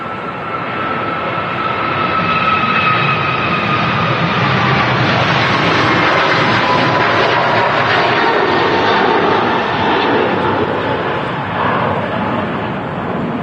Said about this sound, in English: There goes the Aer Lingus A321 long-range Neo heading off to New York JFK